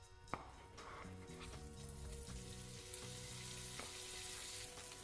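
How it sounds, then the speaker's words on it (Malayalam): Butter melting in a hot non-stick pan gives a steady, close sizzle with faint crackle that runs the whole time, along with a short clink near the start and a low background hum with a few tonal notes. "ചട്ടി ചൂടായി കഴിഞ്ഞാൽ അതിലേക്ക് 1 ടേബിൾ സ്പൂൺ ബട്ടർ ചേർത്ത് കൊടുക്കാം."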